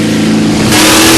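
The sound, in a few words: drag racing car with Chevrolet V8 engine revving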